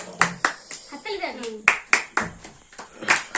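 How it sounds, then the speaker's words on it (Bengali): A small group claps for the winner of a phuchka-eating challenge, uneven sharp hand claps ringing out close by while a voice talks between them. "সকলে করতালি দিয়ে বাহবা দাও"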